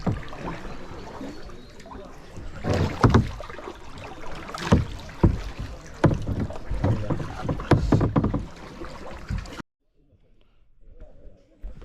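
Kayak paddling on a canal in the Spreewald, Germany, with repeated paddle strokes and water splashes under wind noise, close to the microphone, ending abruptly in near silence.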